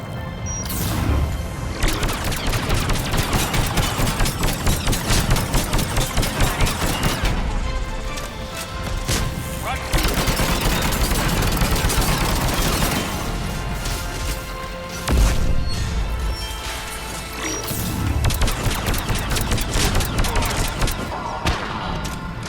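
Gunfire erupts in a Mass Effect 3 firefight, dense crashing shots and bursts filling the whole stretch at high volume with brief lulls, layered over game music and effects.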